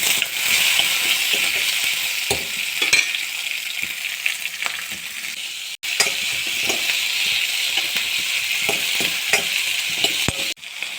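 Onions sizzle and fry in hot oil for a South Indian onion chutney, a continuous crackling hiss broken by occasional clinks of a stirring spoon against the pan.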